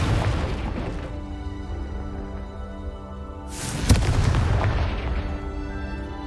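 A Confringo spell explosion in Hogwarts Legacy: a sharp, loud burst midway through, over steady game ambience and music, followed by a rumbling decay.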